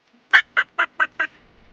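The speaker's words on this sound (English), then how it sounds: "A duck is here. Let's quack together." A duck quacking: five loud, evenly spaced nasal quacks close up, with silence between them and nothing else heard.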